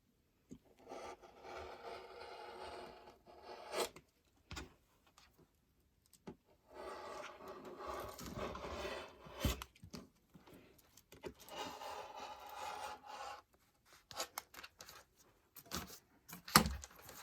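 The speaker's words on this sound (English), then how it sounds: "grab my sharp blade and my template plastic and line things up the best I can and kind of go" A sharp blade draws across fabric laid against a plastic template in soft, faint rasping strokes, several separate passes with short pauses between them, close and quiet.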